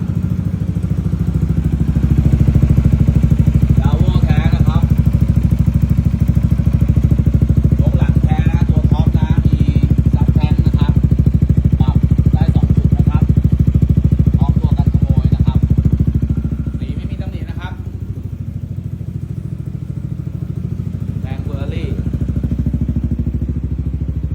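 A red Yamaha XMAX 300 scooter with a Daivo titanium exhaust idles steadily nearby, its low rumble holding even and then dipping slightly toward the end while someone talks over it.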